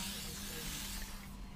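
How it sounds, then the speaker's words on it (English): A short WD-40 aerosol spray onto a lawnmower hisses steadily for under two seconds, close to the microphone. "just going to get a little bit of WD-40 spray"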